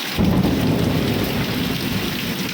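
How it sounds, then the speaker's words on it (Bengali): Heavy monsoon rain pours down over Dhaka with rumbling thunder, forming a steady, dense close roar of falling water that lasts throughout with no voices. "বৃষ্টির শব্দ শুনতে পারতেছেন বিদ্যুৎ চমকে যাচ্ছে"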